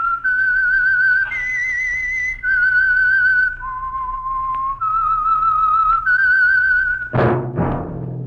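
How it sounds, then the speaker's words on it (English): A radio program's signature whistle melody, a clear solo tune of held and sliding notes whistled loudly and alone, ending with two sharp bright bursts near the close. "That whistle is your signal for the Signal Oil Program, The Whistler."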